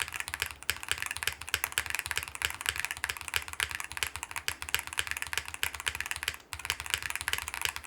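Rapid, continuous clacking from an ND104 mechanical keyboard fitted with a GMK spacebar, keys struck close up in a dense typing rhythm with occasional deeper spacebar thumps and no talking.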